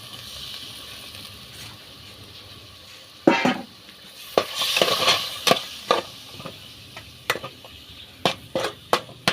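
Scraping and clattering of a utensil stirring food in a hot pan, in irregular bursts with a faint sizzle underneath.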